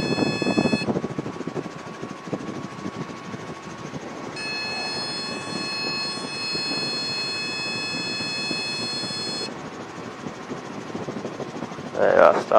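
A helicopter's rotor and engine whine steadily during a practice autorotation landing after simulated engine failure, a continuous mid-level drone with a high tonal hum rising in and out, while a voice speaks over it.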